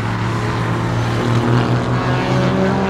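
Steady, loud engine drone from a Ford GT race car at the Mid-Ohio racetrack during an IMSA Grand Prix weekend, holding a constant low rumble with no voices.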